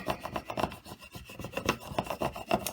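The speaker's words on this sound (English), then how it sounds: "Since this is a cold laminate, it's not the most secure stuff in the world, so I do like to burnish it down on top" A laminated sticker on magnet paper, covered in cold laminate, is burnished down by hand in quick repeated rubbing strokes that make a soft, dry scraping rasp at close range.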